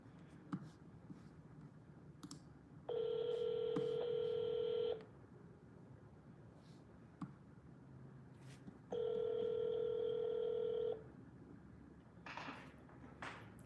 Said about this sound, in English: Pick up the phone and dial.